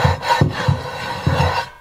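Rough, gritty scraping strokes across the coarse surface of a cheap cast iron pan, three or four close rasping passes in a quick back-and-forth rhythm.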